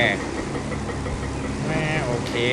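A bulldozer's diesel engine rumbles steadily at a mid idle in Construction Simulator 3, a constant mechanical drone heard close up.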